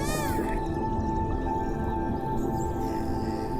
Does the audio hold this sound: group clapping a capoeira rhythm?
no